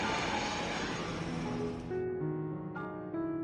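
An airplane taking off roars loud and broad, then the rush thins into droning tonal engine hum with shifting pitches as it pulls away.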